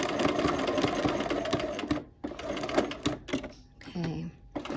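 A sewing machine stitches a quilt block in quick rapid bursts, close and loud, stopping and restarting several times with short pauses between runs; a voice speaks briefly near the end.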